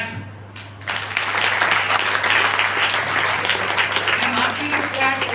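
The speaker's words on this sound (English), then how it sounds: "I'm asking you to clap so that the blood flow is there" An audience claps together at a university entrepreneurship training session, a steady dense burst of applause starting abruptly after a brief quiet moment and holding evenly to the end.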